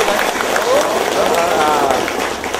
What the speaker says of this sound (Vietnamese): Rồi vỗ tay đi